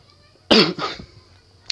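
A single loud, harsh cough bursts out, followed by a shorter rasping throat noise, then a faint click.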